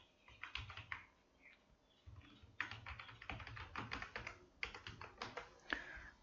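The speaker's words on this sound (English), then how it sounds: "Let me type it correctly." Quick bursts of typing on a computer keyboard, with rapid clicking keystrokes in uneven clusters and short pauses between them, close up in a quiet room.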